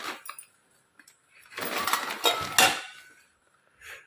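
Metal pots and vessels clatter and clink as they are unpacked during a house move, a few short clanks and then a dense burst of rattling metal, close and loud, with no talk.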